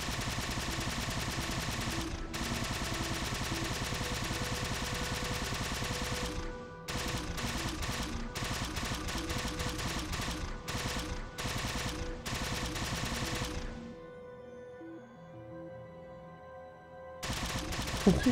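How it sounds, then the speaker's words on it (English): Rapid plasma weapon fire in the video game Halo 4, sustained bursts of close, loud repeated shots with brief gaps, then a quieter stretch before firing resumes. "Get some plasma fire down."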